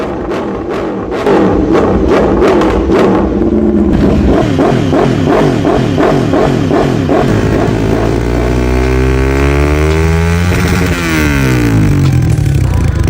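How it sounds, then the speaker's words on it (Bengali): Vehicle engine revving hard through its exhaust, loud and close, with repeated rising and falling revs that build to a sustained high-pitched roar and wind back down, and voices briefly audible in the background. "এক্সজাস্টের সাউন্ডটা দেখাই"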